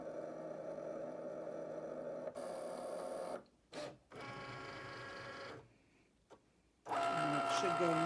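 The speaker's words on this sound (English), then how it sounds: "it should go and make that score line for me right at the 5-inch mark" A Cricut cutting machine scoring a greeting card with its scoring wheel at the 5-inch mark gives a steady mechanical whir and hum that stops and restarts in short stretches. The motor noise is close and continuous between the pauses.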